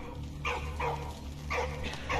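Dog barks in the video game Valiant Hearts: The Great War, four short yelping bursts spaced about half a second apart over a steady low game hum, moderately loud with no talk.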